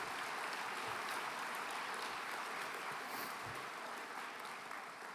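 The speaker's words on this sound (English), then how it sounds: "I just want a huge round of applause for all the volunteers and all the people at the Be Brave Ranch" A luncheon audience applauds volunteers in a sustained, even wash of clapping, heard at a distance and fairly faint.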